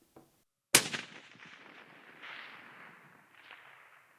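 A single rifle shot cracks out sharply at a 660-yard range, fired through a Savage rifle with a drop-in trigger, then rolls away in a long fading echo with a faint distant report of the impact about three seconds later.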